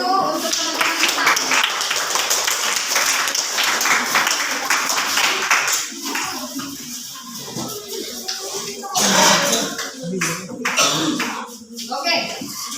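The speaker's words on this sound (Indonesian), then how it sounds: "Tepuk tangan dulu untuk teman-teman kita." A school class claps for classmates after their performance, a burst of close, busy hand-clapping that thins out after several seconds, mixed with children's voices and shuffling.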